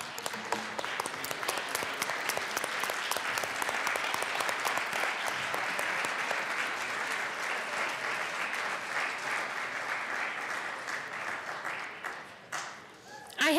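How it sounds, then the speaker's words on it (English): Sustained applause from members filling a state House legislative chamber, steady and dense for about twelve seconds before tapering off near the end. "could you please give a round of applause to those volunteers?"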